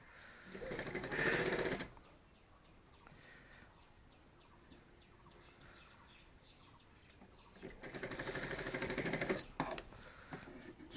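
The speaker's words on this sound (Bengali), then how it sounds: "কাপড় দুটোর এক মাথা আমরা সেলাই করে দেবো।" A sewing machine rattles quickly through two pieces of bag fabric in two bursts, one short and one longer, with a quiet gap between them. It sounds close and fairly faint.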